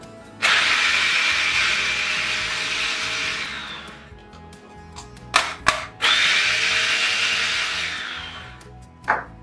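A kitchen machine chops spinach for ravioli with a loud, close, high-pitched whirring that runs for several seconds. A few sharp knocks follow before a second whirring burst and a final short pulse.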